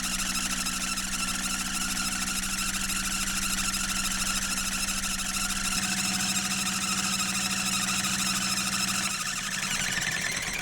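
A 55-year-old sailboat's engine runs continuously at close range, a loud, steady knocking drone with a buzzing hum and a slight change in tone near the end.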